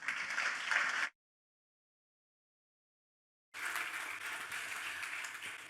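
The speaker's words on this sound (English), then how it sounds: "If you could give them a round of applause." A conference audience applauds panelists after a discussion on digital transformation in sports and entertainment, a steady patter of clapping that cuts out for a few seconds of silence, then resumes just as evenly.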